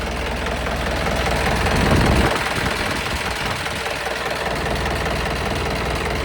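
A tractor engine, at a tractor market in Patiala, idles close by with a steady low chugging rumble, briefly revving slightly louder before settling back.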